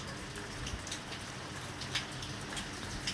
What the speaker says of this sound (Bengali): কি জোর বৃষ্টি নেমেছে!